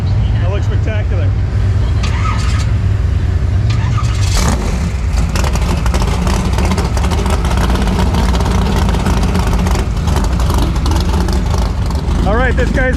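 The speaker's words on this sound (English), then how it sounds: "this guy's running a 440 small block and a Powerglide transmission" Drag car with a 440 small block and Powerglide transmission on big Hoosier tires, rumbling loud and steady through the whole stretch at a drag strip, with crowd noise and talk mixed in.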